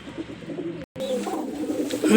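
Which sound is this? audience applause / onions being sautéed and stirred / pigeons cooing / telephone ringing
pigeons cooing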